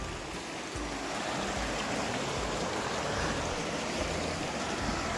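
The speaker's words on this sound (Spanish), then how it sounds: "Este es el río Las Trancas." Las Trancas river in the Calchaquí valleys near Molinos flows with a steady, continuous broadband rush of water, close and constant for the whole stretch, with faint low wind rumble underneath and no talking.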